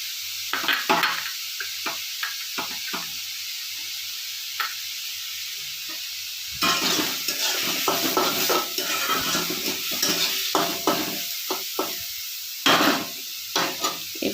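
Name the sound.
grated carrots being stirred and fried in a pan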